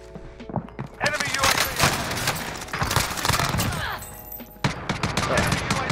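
Bursts of automatic gunfire in the video game Call of Duty Warzone, with a Codebreaker MP5 in play, rattling in rapid volleys with thuds, over a player talking excitedly.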